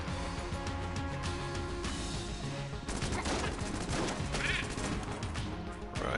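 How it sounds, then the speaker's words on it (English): Enter the Gungeon gunfire from blue shotgunner enemies, rapid overlapping bursts of shots and impacts, dense and continuous with busier volleys in the second half, under faint game music. "2 blue shotgunners, that's why there's so many bullets around."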